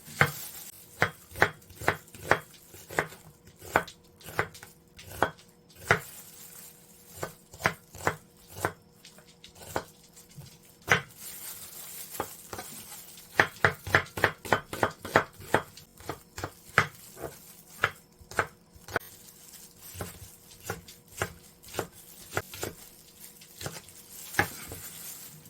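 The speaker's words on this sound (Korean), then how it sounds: "배추김치에 들어갈 양파 썰어줍니다." A knife slices onion on a cutting board for cabbage kimchi, with a long run of crisp, rapid chops in uneven bursts and short pauses, close and fairly quiet with no talking.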